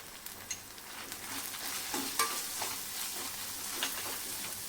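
Malvani masala spices being stirred into soft, cooked onions in a pan, with a quiet, steady sizzle broken by light scraping and clinking strokes of the spoon.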